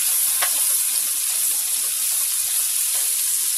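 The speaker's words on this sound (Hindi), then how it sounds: "इसके बाद में हम टमाटर का जो पेस्ट है वो डाल देंगे, इसको भी अच्छे से भूनने देंगे" Tomato paste frying in a pan for chicken jalfrezi gives a steady, close hiss of sizzling that holds evenly throughout, with no voices.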